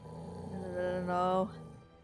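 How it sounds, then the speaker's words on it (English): Low, rumbling growl of a creature in the horror game Tiny Bunny, rising to a louder, strained peak before cutting off abruptly and fading. "Can you hear the growling?"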